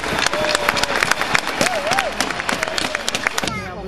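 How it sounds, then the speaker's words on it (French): Crowd applause for the volunteers at the Feria de Dax opening, sharp individual claps and cheering over an outdoor crowd, with a whistle-like tone and voices mixed in. "ils méritent notre admiration, nos remerciements et, s'il vous plaît, vos applaudissements."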